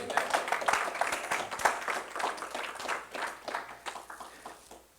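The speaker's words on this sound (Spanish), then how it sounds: "Alguien puede darle un aplauso al Señor." A church congregation breaks into applause during a Spanish-language sermon, a dense patter of many hands clapping that starts strong and slowly thins and fades over several seconds.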